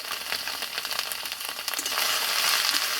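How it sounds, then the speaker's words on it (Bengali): Water lily flowers frying with turmeric powder and salt make a crackling, spitting sizzle with dense pops. The frying swells louder and steadier toward the end, and no one speaks. "বন্ধুরা একবার এইভাবে শাপলার ফুল ভাজা করে দেখো"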